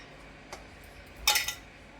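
Bitter cucumber pieces are stirred into a spice mix in a bowl for a crunchy chutney: one soft clink of a spoon, then a brief louder scraping rattle of metal against the bowl, close and quiet with no speech.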